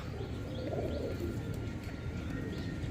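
German shield pigeons coo softly and repeatedly beneath a steady, loud wash of background noise. No voices are heard.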